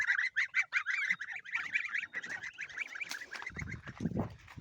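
A flock of geese on a farm honks in rapid, overlapping calls, fairly close, with low rustling and scuffling noises toward the end.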